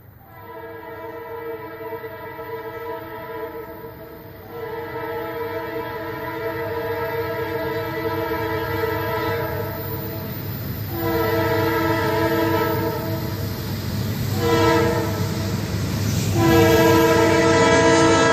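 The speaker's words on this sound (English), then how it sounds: "the RS3L train horn on CN 2156" A CN RS3L locomotive, number 2156, sounds its horn in a long chord of repeated blasts that swell louder over time, with rail noise and train rumble underneath.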